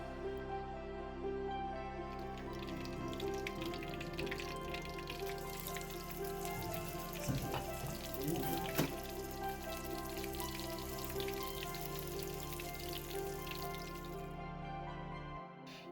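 Singaras deep-frying in oil give a continuous, dense bubbling crackle that carries on steadily, layered over a constant hum in the background.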